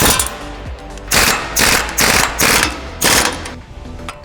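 An impact wrench rattles in several short, loud bursts of hammering clatter, separated by brief pauses, while tightening a steering knuckle on a Bronco.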